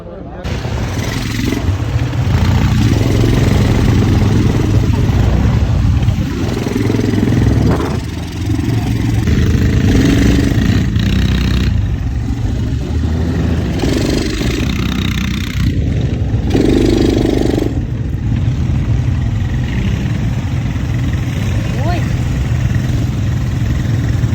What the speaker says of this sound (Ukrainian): Багі квадроцикл